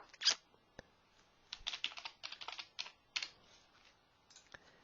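Fingers type on a computer keyboard in quiet bursts of close, crisp key clicks with short pauses, as an email address and password are entered to sign in.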